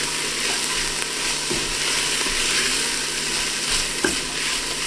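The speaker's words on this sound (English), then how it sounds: "let's go ahead and get this stirred and mixed well" Cauliflower chicken soup seasoned with cayenne pepper being stirred in a pot, a steady wet sizzle with soft scraping and a couple of brief clunks of the spoon against the pan, no voices.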